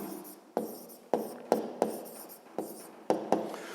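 A pen writes out a fifth-grade math solution on paper, close and clear, in short scratchy strokes with regular taps as each stroke starts, and no talking.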